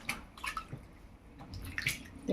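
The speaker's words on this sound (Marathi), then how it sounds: "परत आपण एकदा पाणी घेतलेलं आहे, चांगलं चोळून धुवून घेणार आहोत" Sago pearls rubbed and washed by hand in a bowl of water, with soft sloshing, swishing and small splashes in an irregular rhythm, close and moderately quiet, no voices.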